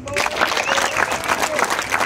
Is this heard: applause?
yes